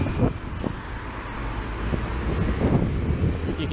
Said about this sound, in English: You can probably hear there's a ton of traffic behind me.